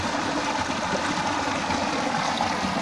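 A small river running like a ditch, flowing in a steady, even rush of water close by, constant and unbroken with no voices.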